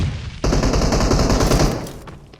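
A loud, sustained burst of rapid UMP gunfire in a shooting video game, lasting over a second and then cutting off, with no talk over it.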